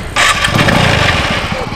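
A motorcycle engine starts with a sudden loud roar and runs on in a rough, throbbing burble at close range for under two seconds.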